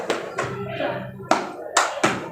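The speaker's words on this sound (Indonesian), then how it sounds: "Nah, seperti ini tepukannya." Hands clap a rhythmic pattern for a group clapping game in a high school guidance session in Pariaman. Five sharp claps land at uneven intervals over soft background noise.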